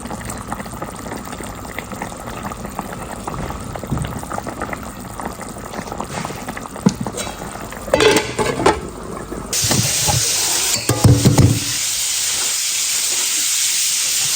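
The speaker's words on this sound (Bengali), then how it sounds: "এই চুলাতে হলো হচ্ছে কোরাল মাছটাকে পেঁয়াজ দিয়ে ভুনা করতেছি" Coral fish frying with onion in a pan on a kitchen stove, a steady close sizzle and bubbling hiss that swells louder and brighter in the last few seconds.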